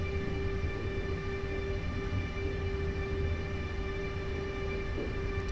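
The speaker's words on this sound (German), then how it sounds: "die klassische Tonleiter kommt, wie das für die ÖBB-Reihen 10, 16 und 11, 16 typisch ist." An ÖBB class 1016/1116 electric locomotive in Train Simulator Classic gives off its steady tonal traction whine, several sustained pitched hums over a loud constant rail rumble.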